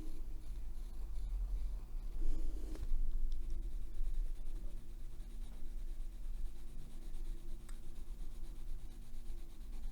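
Soft 4B graphite pencil drawing and shading on paper, a close, steady scratchy rubbing that continues throughout, with a brief heavier stroke early on, and no voices.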